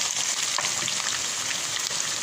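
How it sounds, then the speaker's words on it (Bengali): Onion, garlic and chopped dried chilies frying in oil in a pan until reddish, giving a continuous dense crackling sizzle like light rain, close and fairly even, without speech. "এখানে এতে লালচে করে ভেজে নেব। পেঁয়াজ রসুন মরিচ সব একটু লালচে কালার হয়ে আসছে।"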